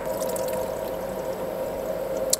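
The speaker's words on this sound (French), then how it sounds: "Voilà, l'eau se vide, qui a servi à faire des glaçons." A DOMO ice machine drains the water that was used to make ice, giving a steady close pouring trickle that ends in a brief clink.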